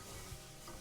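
Food frying in a pan, a faint continuous sizzle with a soft crackle and a light scrape of stirring, heard close but quietly.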